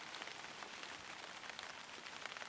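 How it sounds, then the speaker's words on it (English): Light rain patters steadily on a surface at a wild camp by a kayak, a soft, continuous scatter of drops, faint and with no voices. "the rain started to pitter patter again"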